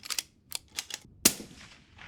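Rifle shots fired during team sniper match training on a range, a few sharp cracks spaced apart followed by one louder close report with a ringing tail.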